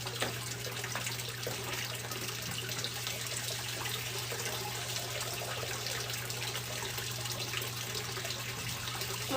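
Tap water runs steadily into a container in a greenhouse, a continuous even rush with a low hum beneath, no voices.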